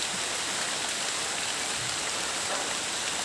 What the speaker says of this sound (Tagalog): Umuulan talaga.